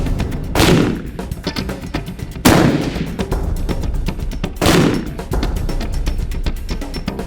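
Three loud, close gunshots from an old-style, traditionally made rifle, spaced about two seconds apart, each cracking sharply and then decaying into a rumbling tail, with no talk.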